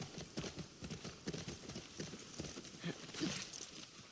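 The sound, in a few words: horse hooves clip-clop in video game The Last of Us 2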